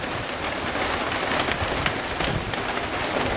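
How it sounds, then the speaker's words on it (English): Steady rain falls outside a front porch by a carport and double-wide drive, a continuous close hiss of drops pattering on surfaces with no voices. "And it's raining."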